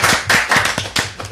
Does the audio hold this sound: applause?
yes